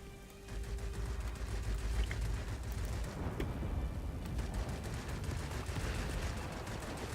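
Aircraft guns fire in the World of Warplanes combat game, including a Yak fighter's heavy cannon; a dense, continuous rattle of rapid shots roars steadily through the whole stretch, with no talk.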